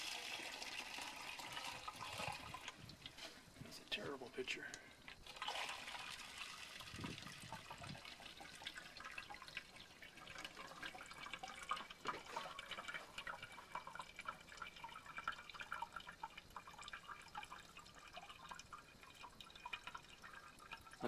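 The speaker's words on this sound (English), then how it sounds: "Just gonna run a bunch of this clear water through it again." Clear water splashes and trickles continuously through a DIY sand filter used for recycling laundry waste water, a faint irregular gurgling and dripping with a brief spoken remark over it.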